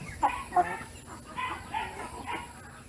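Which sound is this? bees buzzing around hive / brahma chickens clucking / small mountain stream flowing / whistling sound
brahma chickens clucking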